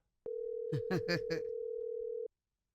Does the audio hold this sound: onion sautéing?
no